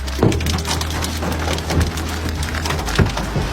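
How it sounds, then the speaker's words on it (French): Hailstones hammering a car window during a violent storm near Aubenas in Ardèche, a dense, constant clatter of impacts with a steady low rumble beneath and a few harder cracks. "Ici, la grêle transperce la fenêtre."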